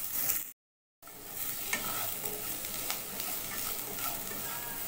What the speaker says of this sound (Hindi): अभी इसमें हमने जो ऑनियन का चंक्स रखे है उसको फ्राई कर लेंगे